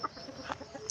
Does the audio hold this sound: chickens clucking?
yes